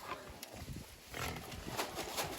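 Pigs on a homestead, heard as rough grunting and snorting bursts at close range, noisy and continuous across the moment with some broadband scuffling.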